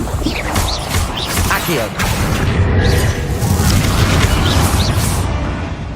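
Booming, crashing blasts from a Confringo fire spell in the game Hogwarts Legacy, loud and continuous over several seconds amid combat clatter, with a voice casting spells.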